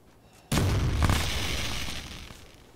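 A grenade explodes in Arma 3 with a sudden loud boom that decays over about two seconds, heard alone in the game's soundscape.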